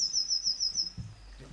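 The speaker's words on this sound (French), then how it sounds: "la petite mésange bleue, à votre avis, pourquoi les oiseaux se mettent-ils à chanter comme elle" Blue tit singing in spring: a repeated high, thin phrase of bright chirps in the first second, fairly clear and alone, followed by a few soft low thumps.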